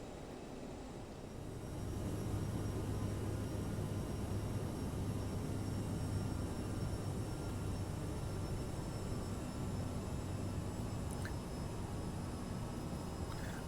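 Steady cabin drone of an Aerosoft CRJ jet airborne after departing Birmingham in Microsoft Flight Simulator, a constant broad hum with faint tonal whine, holding level and unbroken with no talking.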